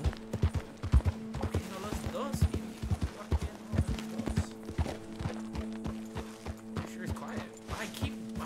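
Horse hooves clip-clop in a steady walking rhythm in Red Dead Redemption 2, a large horse moving close by with a low tonal hum underneath and a voice speaking briefly over it.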